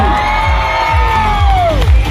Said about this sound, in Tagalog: isang malakas na palakpakan na may kasamang hiyawan